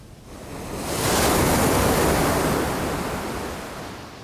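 Ocean surf at a beach where lifesavers practise swimming, one wave swelling into a loud broad wash that peaks and slowly recedes, with wind noise and no voices.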